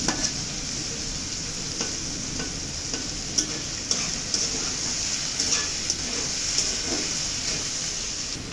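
Shrimp and chopped potato sizzle steadily in a hot pan while being stirred, with occasional utensil scrapes and clicks over a continuous frying hiss.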